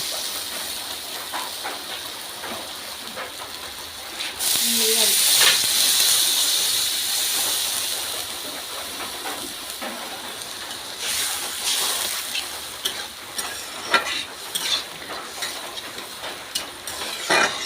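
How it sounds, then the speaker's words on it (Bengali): Water splashes into a hot pan of cooking egg over a wood fire, setting off a loud burst of hissing sizzle that gradually settles into a steady crackling fry with scattered pops. "অল্প এখন জল ঢেলে দেবো।"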